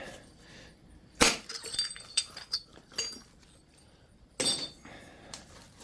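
Two sharp cracking strikes of a hammer on Georgia coastal chert, the second a few seconds after the first, with smaller clinks and taps between them.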